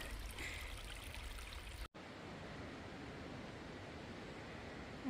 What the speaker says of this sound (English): And a baby waterfall.